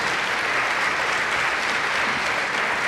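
Continuous applause from an audience at a school awards ceremony, a dense, even wash of clapping held at steady loudness throughout.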